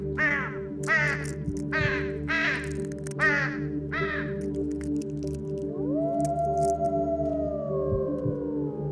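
Crow caws in an Amnesia custom horror map: about five harsh, rasping calls in a steady series over a low droning ambient bed, followed by a rising eerie tone.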